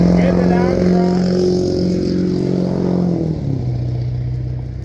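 A loud truck drives past close by, its heavy engine drone filling the scene, with the pitch shifting and dropping as it moves on.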